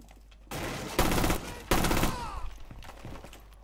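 Gunfire in Rainbow Six Siege, a few loud bursts of rapid shots in quick succession, each lasting a fraction of a second, over low game ambience.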